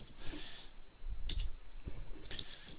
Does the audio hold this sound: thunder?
no